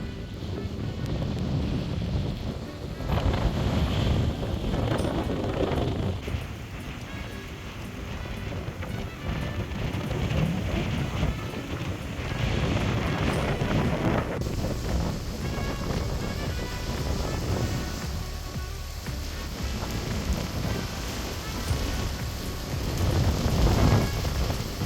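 Ocean waves surge against the coast of Savai'i island, Samoa, where a blowhole throws a jet of water high into the air every few seconds; loud rushing swells rise and fall under heavy wind buffeting, with no voices.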